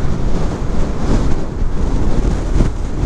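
Strong outdoor wind buffets a microphone with a loud, continuous low rumble and gusty roar throughout, and no other sounds stand out.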